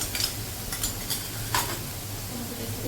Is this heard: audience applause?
no